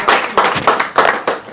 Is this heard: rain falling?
no